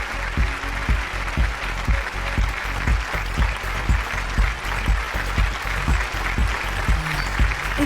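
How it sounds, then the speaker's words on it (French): Sustained audience applause at a launch event for a new body makeup line, dense clapping with a steady rhythmic pulse throughout, loud and close with no voices. "Applaudissez bien fort."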